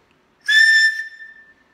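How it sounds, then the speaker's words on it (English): A signal whistle built into the end of a fire steel gives one loud, piercing blast lasting about half a second, then trails off into a fading tone. "you not only have a way to make fire, but you also have a signal whistle"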